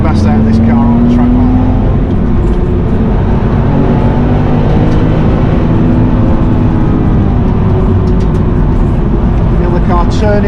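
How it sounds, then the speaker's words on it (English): Car at speed on the Nürburgring track, its engine droning loud and close without a break as the driver brakes harder into a corner, with a voice talking over the engine note. "this is where I'm going to get a bit harder on the brakes now"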